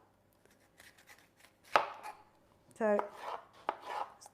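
A sharp knife dicing capsicum on a board, with a few quick isolated chops followed by a rapid rhythmic burst of cuts and some further single strikes, close and clear, with a brief spoken word.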